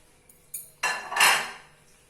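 Plates and dishes clatter as a bigger plate is taken out while making rasgulla, a light tap followed by two louder ceramic clanks and a fading rattle, close and without talk.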